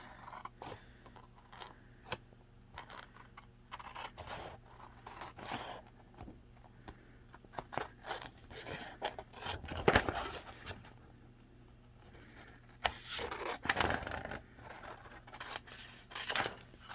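Scissors snip and cut around a glued paper craft piece, irregular crisp clicks and slicing strokes up close, with paper rustling and a couple of louder handling bumps.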